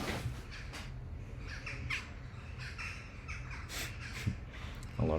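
Crows and other birds squawk and caw repeatedly outdoors, faint and somewhat distant, in an irregular scattered series over steady background noise.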